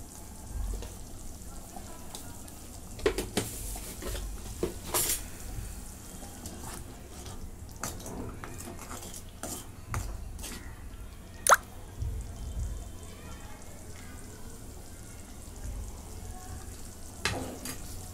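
Paneer masala gravy simmers in a pan with faint, quiet bubbling and soft sizzle. Scattered small pops and drips break through, along with a few sharper clinks, with no talk.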